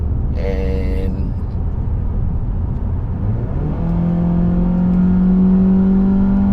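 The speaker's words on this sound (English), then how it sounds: "the moment you turn on the switch, the exhaust note changes, the urgency of the engine changes" Mazda 3 sedan (2024) engine and exhaust in Sport mode, a steady rumbling drone that rises in pitch as the car accelerates, ending in a sustained whirring tone; a voice briefly overlaps at the start.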